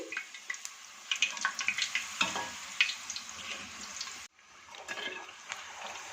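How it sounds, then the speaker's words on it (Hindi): Puris deep-fry in hot oil, giving a bubbling sizzle with a string of sharp crackling pops, then a sudden drop and a quieter, steady fry. "इसी तरह सब पूड़ियों को फ्राई कर लेंगे।"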